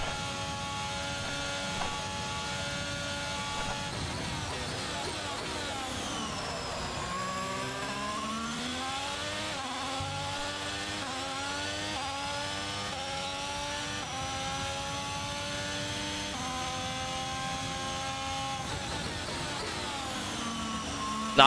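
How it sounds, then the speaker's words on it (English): A Ferrari Formula 1 car engine in the racing game F1 22 screams at high revs, pitch sweeping up and down through repeated gear shifts for a sustained, loud run with no talk. "The engine sounds are a lot better, like the Ferrari sound isn't deafening anymore."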